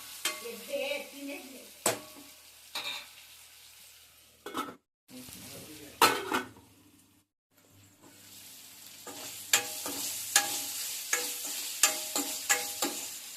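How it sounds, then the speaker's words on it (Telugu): Bitter gourd curry frying in a pan over low heat, with a steady soft sizzle broken by repeated clanks and scrapes of a spoon stirring against the metal, plus a couple of brief pauses. "ఇలా కలుపుకొని ఒక 5 మినిట్స్ సిమ్లో పెట్టి ఫ్రై చేసుకుంటే సరిపోద్దండి"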